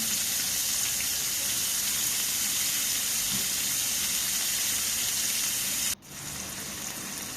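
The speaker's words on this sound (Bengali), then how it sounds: "এই তেলের ভিতরে কিছু কাঁচামরিচ আর রসুন দিয়ে একটু লাল করে ভেজে নেব" Green chillies and garlic frying in hot oil in a pan, a steady, dense sizzle that runs loud and unbroken, then briefly cuts out and resumes a little quieter.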